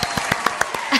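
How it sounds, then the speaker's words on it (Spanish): Applause cheered on for a father being introduced on a Spanish-language show: a short burst of clapping with sharp, rhythmic claps about every sixth of a second, fairly close and moderately loud, with a brief swell at the end. "¡Aplausos!"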